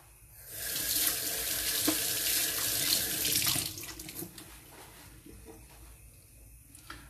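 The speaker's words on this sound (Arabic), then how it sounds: "وكما قاعدين تشوفوا جست نغسل إيديا" Hands are washed under a running kitchen tap, water splashing and flowing steadily for a few seconds, close and clear, then the stream cuts off and only faint drips and handling noises remain.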